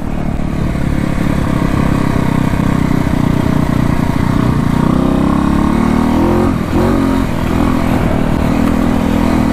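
A 1968 Harley-Davidson motorcycle engine roars loudly and continuously on a road test, a steady rough rumble that climbs slightly in pitch as it pulls through the gears.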